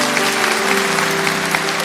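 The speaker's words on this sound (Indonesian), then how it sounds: "Berikan tepuk tangan untuk Roh Kudus" Sustained applause from a church congregation during a Pentecostal-style sermon, steady and close, with a constant tonal hum running underneath and no voices over it.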